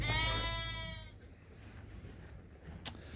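A ewe at lambing time on a sheep farm gives one clear, wavering bleat right at the start, then only faint outdoor ambience follows.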